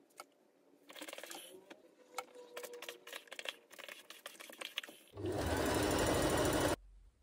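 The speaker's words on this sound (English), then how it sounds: "now I should sew on this small hole" A sewing machine stitches a small hole shut in fabric, running as a loud, steady burst for about a second and a half after scattered clicks and handling noises.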